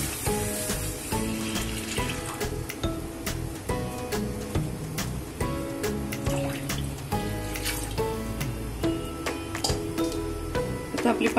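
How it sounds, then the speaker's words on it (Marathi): Water is poured into a hot kadhai on a gas stove, making a continuous splashing hiss mixed with clinks and knocks of utensils. "कढई तापत ठेवली, त्याच्यात पाणी घालूया।"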